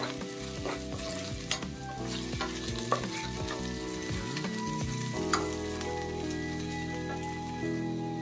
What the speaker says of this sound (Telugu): బాగా కలిపేసుకుందాము.